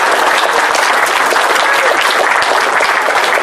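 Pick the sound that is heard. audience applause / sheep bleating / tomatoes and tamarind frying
audience applause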